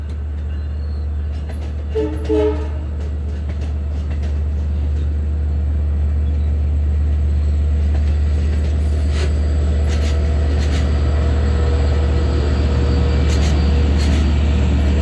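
A train rumbles past steadily and loudly, with a brief horn-like tone early on and clattering wheels building toward the end.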